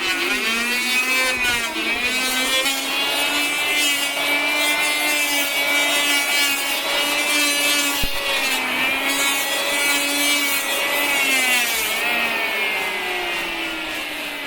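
A carpenter's new power tool whines loudly and continuously up close, its pitch dipping and rising as it bites into wood during house roof work.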